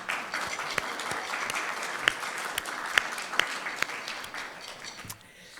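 Warm audience applause during a morning gathering, welcoming first-time visitors: a dense, steady patter of many hands with a few sharper claps, fading out at the end.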